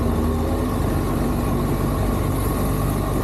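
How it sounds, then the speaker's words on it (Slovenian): A 2025 Honda CB1000 Hornet motorcycle idles while warming up, its engine holding a steady, close, loud rumble with an even low throb and no revving. "Motor se mora ugreti."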